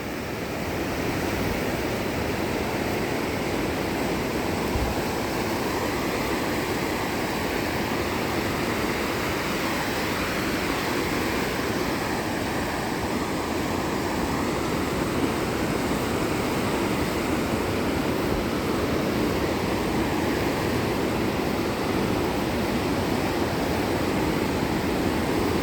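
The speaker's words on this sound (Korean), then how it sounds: "이렇게 파도 소리 들으면서" Ocean surf rolls continuously onto a beach at Qingdao, a steady broadband wash of waves with no distinct breaks, fairly close and unbroken for the whole stretch.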